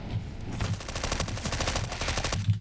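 Rapid automatic gunfire from the video game Counter-Strike: Global Offensive, a dense, steady burst of shots lasting the whole moment with a few heavier hits at the start and end.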